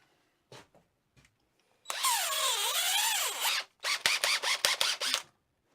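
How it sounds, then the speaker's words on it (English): A power drill with a 3 mm steel bit whines up and pre-drills into guitar wood for a couple of seconds, followed by a quick series of short bursts as the trigger is pulsed. "we're just going to pre-drill him"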